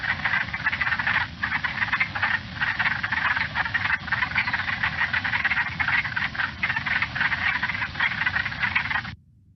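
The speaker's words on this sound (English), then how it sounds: "But that's the pickerel frog." A pickerel frog calls at a vernal pool wetland, a continuous low, grating snore-like croak with a slightly pulsing rhythm, loud and close, heard alone until it cuts off near the end.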